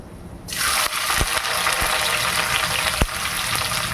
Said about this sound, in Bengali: পেঁয়াজগুলোকে একটু হালকা ভেজে নেব